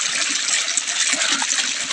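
Irrigation water gushes out of a chamber in a dry farm field, a continuous close rushing splash that stays loud and steady throughout.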